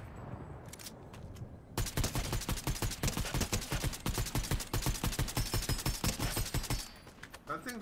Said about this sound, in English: Took two sniper rounds to the head.